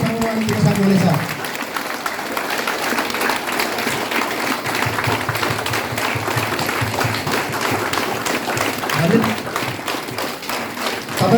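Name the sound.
audience applauding continuously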